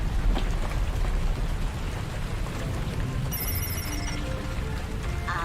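Steady rain patters across a surface, a dense wash of drops with no voices, and a faint ringing tone joins near the end.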